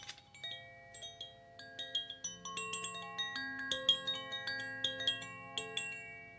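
A simple chime rings out in a series of bright, overlapping metallic tones, struck repeatedly at an irregular pace so the notes linger and blend into one another.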